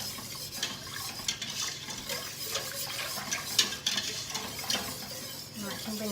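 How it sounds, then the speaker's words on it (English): A whisk working through lasagne sauce in a pan to break up lumps, a steady busy swishing and scraping with occasional metallic taps, close and moderately quiet. "The whisk breaks up all the lumps, otherwise you'll end up with a big lumpy"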